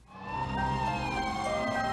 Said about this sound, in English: Moments later, the sound of sirens confirmed